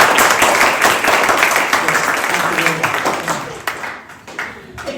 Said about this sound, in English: Can we just have a round of applause for Julie?